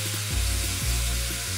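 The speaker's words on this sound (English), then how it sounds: "The bacon sizzling in the fry pan." Bacon sizzles in a frying pan while cooking on a boat, a close crackling hiss that stays continuous with a low steady hum underneath and no talking.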